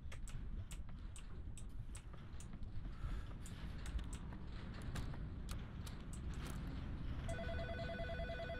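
A telephone rings in the video game In Sound Mind, a faint repeated ringing tone amid a busy background of clicks and mechanical noise, with the clearest ringing near the end.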